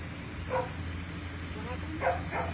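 A dog barks outdoors, a single short bark followed about a second and a half later by two more in quick succession, heard at moderate distance over a constant low hum.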